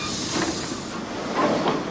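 A narrow gauge 2-8-2 steam tank locomotive built in Spain by Babcock and Wilcox gives a short, steady burst of hissing steam and rolling train noise, fairly close, with no talk.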